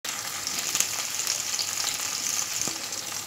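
Eggplant and potato sizzle steadily in hot oil in a pan, a dense continuous crackle with a few faint stirring clicks, close and alone with no talk.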